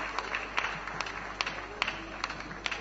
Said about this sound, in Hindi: जोरदार तालियां बजाकर हम अपने भामाशाहों का सम्मान